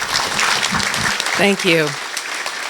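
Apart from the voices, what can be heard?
audience applause at dinner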